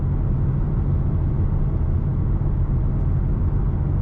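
Exhaust note of a 2018 Ford Mustang GT Fastback: a steady, deep, heavy rumble held at an even level, with no talking over it.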